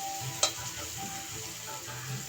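Pumpkin bhaji frying in a pan, a soft continuous sizzle heard close but quiet, with a single brief clink from a utensil near the start.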